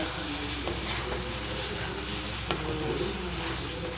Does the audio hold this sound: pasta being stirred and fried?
yes